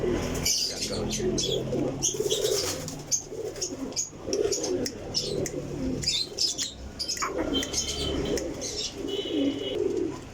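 Golden flying pigeons in a loft coo and chirp close by, with occasional rustles that suggest wings flapping, forming a steady busy bird chorus throughout.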